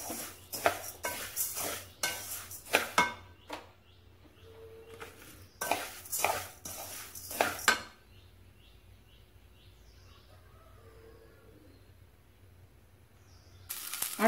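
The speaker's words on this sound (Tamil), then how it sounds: "இந்த பக்கம் கொள்ளு வறுக்கிறேன்" Horse gram being dry-roasted and stirred in a metal pan, with clusters of sharp scraping and rattling strokes in bursts, quiet gaps between them, and faint background chirps.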